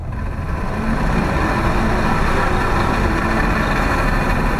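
A 2019 Mazda3 AWD engine straining with the car on rollers on a slight incline, a loud steady low drone that holds and builds slightly without letting up, with no talking.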